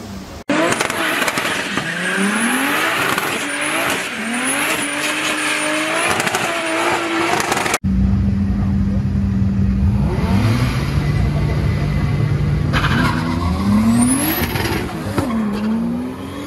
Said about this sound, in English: 1956 Chevy Bel Air with a 2JZ